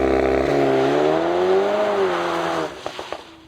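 A VW T-Roc R, a 300-horsepower facelifted compact SUV, launches hard under launch control, its engine rising loud and close for about two and a half seconds before fading into a few clicks and thumps.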